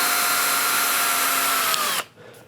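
A power drill with a small bit bores a pilot hole for a screw, giving a loud, steady high whine for about two seconds before it cuts off abruptly and spins down.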